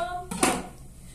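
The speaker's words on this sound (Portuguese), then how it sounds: "Mas como a carne tá com um pedacinho grande, eu vou cortar ela mais" A knife cuts beef into smaller pieces in a home kitchen, a single quiet sharp chop against the board amid faint background tones.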